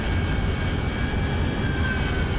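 Harrier jet engine in a combat flight video game, a steady, loud roar that drones without a break, with no talk.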